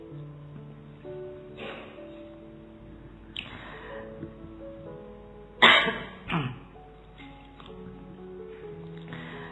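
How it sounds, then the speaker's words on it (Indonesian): A few scattered coughs and throat-clearing sounds from a lecture audience, with one sharper, louder cough near the middle, set against quiet background noise. "Batuk. Ayo lomba batuk."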